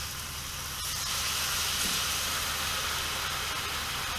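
Red wine hits a hot pan on the stove and sizzles hard, a steady loud hiss of boiling liquid that holds without pause.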